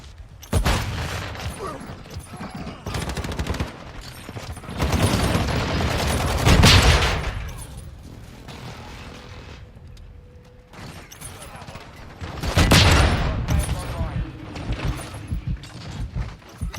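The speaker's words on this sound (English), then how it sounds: "Friendly airstrike in the AO." Call of Duty Modern Warfare II combat: airstrike blasts and gunfire burst out in two loud, rumbling waves, with rapid shots and booms between quieter stretches and game radio voices talking.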